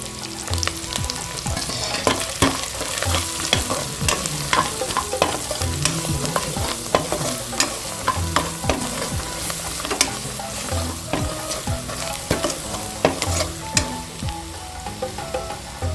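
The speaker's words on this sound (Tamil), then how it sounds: "மிளகாய்த்தூள், மஞ்சத்தூள் இதெல்லாம் சேர்த்துக்கலாம்" Chili powder and turmeric frying with onion, ginger and garlic for egg biryani, a close, loud sizzle under constant vigorous stirring, the spoon scraping and clattering against the cooker pot in quick irregular strokes, no voices.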